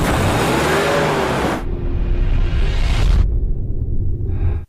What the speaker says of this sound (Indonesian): Shin-e pun kemudian masuk ke mobil dan sudah tinggal tancap gas.